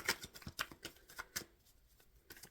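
Tarot cards are shuffled close by in quick bursts of crisp riffling and snapping, about a dozen sharp flutters in a couple of seconds, fairly quiet.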